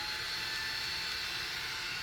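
Portable waist and neck fan running at its top speed, level 10, giving a steady, loud broadband whoosh with a bright whine, constant and unbroken throughout with no voices.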